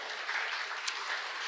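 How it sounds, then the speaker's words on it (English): Applause from attendees at a community board meeting, a steady, moderately loud wash of clapping that holds evenly for a short burst with no talking over it. "And so just a round of applause for that."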